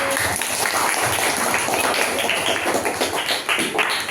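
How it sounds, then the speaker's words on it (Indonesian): Students in an Islamic cultural history classroom applaud a presenting group with dense, continuous clapping, loud and close, filling the whole stretch without pause. "kita beri tepuk tangan untuk kelompok 1"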